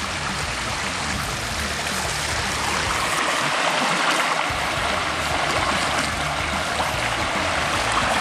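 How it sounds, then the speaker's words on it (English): A small waterfall in a mountain river pours steadily, a dense, close rushing and splashing of water that stays loud and even throughout with no voices. "We find a little waterfall."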